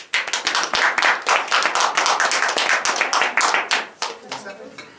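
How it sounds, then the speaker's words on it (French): An audience at an improv theatre workshop claps for the performers, brisk close hand claps that hold steady for several seconds before thinning out. "On les applaudit, c'est parti."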